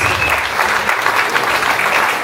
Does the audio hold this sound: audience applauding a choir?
yes